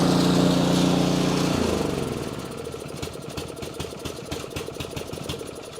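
A snow blower's engine runs loud and steady, then drops to a rougher, lower idle with a rapid knocking pulse as its belt and auger are checked for a tension fault, with brief talk alongside.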